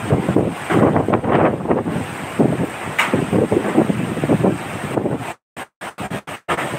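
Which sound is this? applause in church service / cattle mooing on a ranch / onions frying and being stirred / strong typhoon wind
strong typhoon wind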